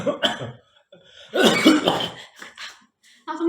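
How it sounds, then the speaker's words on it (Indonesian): A person coughs in a few short, close bursts separated by quiet gaps, mixed with throaty vocal sounds. "Langsung batuk ya"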